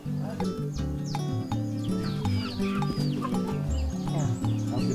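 Chickens cluck and call steadily around a chicken house on a small farm plot, a dense, busy layer of overlapping bird noises with other sounds mixed in.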